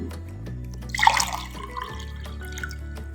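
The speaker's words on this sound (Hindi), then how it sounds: "जैसे कि आप इस कप से पानी ग्लास में डालते हैं" Water poured from a cup into a glass, a brief close splashing trickle rising about a second in and fading quickly, over a low steady background hum.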